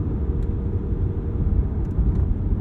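Deep, steady rumble from a 2023 Chevrolet Corvette Z06 flat-plane V8 exhaust with adaptive valves, a continuous low drone holding an even level throughout with no talk.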